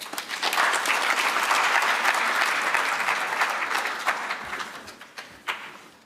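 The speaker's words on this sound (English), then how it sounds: "Can we give him another round of applause for adhering to time?" Audience applause at an Agrément South Africa industry and stakeholder engagement forum, a full round of clapping that holds steady then gradually thins and fades, with a few last claps trailing off.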